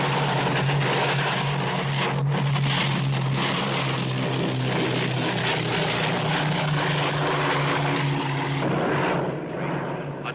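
A propeller search plane drones loudly and steadily overhead. The engine tone stays constant, then shifts slightly near the end as the aircraft passes. No voices are heard.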